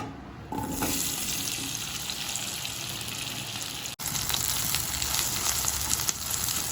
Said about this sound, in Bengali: তেলটা গরম হয়ে গিয়েছে, ভিন্ডিগুলোকে দিয়ে দিলাম